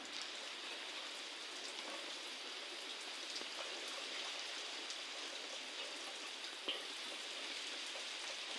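Heavy monsoon rain pours down in a dense, even hiss, steady and continuous throughout with one small sharp tap near the end, heard alone without voices.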